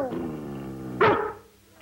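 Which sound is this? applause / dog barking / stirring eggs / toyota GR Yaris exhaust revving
dog barking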